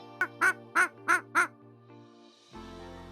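A duck quacks five times in quick, loud succession, each quack short and nasal, followed by a faint lingering tone.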